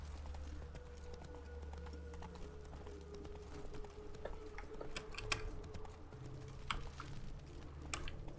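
In The Witcher 3, the player's horse trots with steady close clip-clopping hooves over a low ambient game hum, with no talk.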